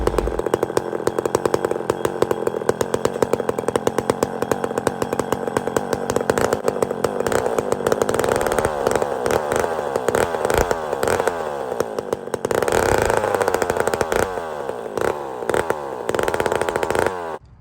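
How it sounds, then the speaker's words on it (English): A chainsaw bought long ago, started without choke, roaring loud and close with a rough, pulsing engine note that revs up and holds steady. "This is a power saw I bought off Bear Claw many, many years ago."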